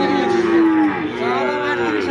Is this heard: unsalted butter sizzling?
no